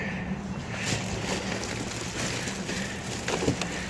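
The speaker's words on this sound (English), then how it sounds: "It's starting to rain." Rain begins falling outdoors by supermarket dumpsters, a steady hiss of drops with scattered faint taps and clicks, fairly even throughout and with no talking.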